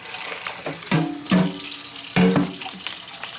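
Running tap water splashes onto smoked meat as it is washed in a kitchen sink, loud and close, with the flow surging in several bursts as the pieces are moved under the stream.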